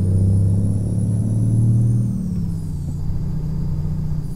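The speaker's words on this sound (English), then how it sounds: "Look at this, just ripping through the gears and we're going nowhere" A heavy truck engine in American Truck Simulator drones low and loud, its pitch stepping as it works through the gears, with a steady rumble throughout and a faint high whine above.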